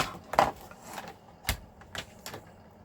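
A paper cutter slices through a sheet of vellum with a handful of sharp, close mechanical clicks and brief swishes, spaced apart in a quiet room.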